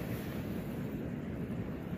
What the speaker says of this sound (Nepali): यो त पुरा उम्लिँदैछ पानी